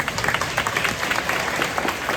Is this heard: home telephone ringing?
no